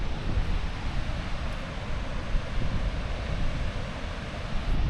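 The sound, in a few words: small waterfall rushing water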